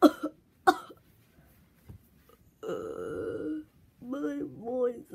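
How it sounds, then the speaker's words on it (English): Two sharp coughing bursts near the start, followed by a croaky, strained voice making drawn-out hoarse sounds. "I don't like the sound of that cough"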